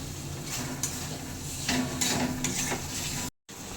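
A Punjabi chana masala spice paste with peeled tomato is sautéed in a pan, producing a steady close sizzle broken by the soft scrape of stirring, then a brief cut to silence near the end, with no one speaking.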